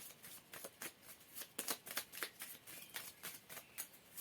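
A 32-card deck is shuffled and cut by hand, making a quick run of crisp riffling flutters and soft slaps, close and quiet, with no talking.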